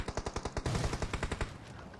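Rapid automatic gunfire in PUBG Mobile, dense bursts of closely spaced shots, loud and near.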